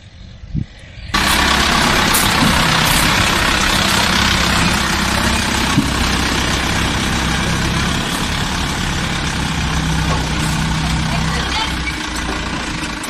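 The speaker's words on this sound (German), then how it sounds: "da kommt der LKW mit unseren 2 Küchen für den Zen-Garden Paraguay" A truck engine idles loudly as the truck arrives carrying two kitchens, a steady low rumble filling the scene after a brief quieter start, with faint talk in the background.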